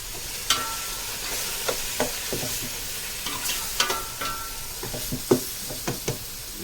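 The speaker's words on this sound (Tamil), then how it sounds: "நல்லா கிளறி கொடுக்கணும்." Mutton biryani masala stirred with yogurt in a pot, Tenkasi style, wet sizzling under repeated spoon scrapes and knocks against the pot in an irregular rhythm, close and clear with no talk.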